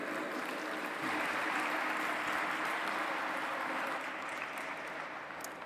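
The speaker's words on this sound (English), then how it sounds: "Please give a huge round of applause to this great gentleman" At an interfaith summit held in a large dome hall, an audience applauds a speaker with a soft, steady wash of many hands that stays even throughout and fades slightly near the end, heard from a distance.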